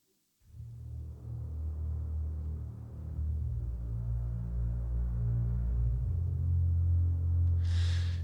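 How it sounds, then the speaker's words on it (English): Orchestral double bass sustaining deep low notes, one octave down, in an epic soundtrack sample, a dense rumbling drone that swells gradually and plays alone. "The double bass alone sounds like this."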